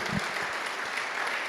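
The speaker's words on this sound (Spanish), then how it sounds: "Démosle un fuerte aplauso a Él." A church congregation claps together in a steady, moderately loud burst of applause, with no speech over it.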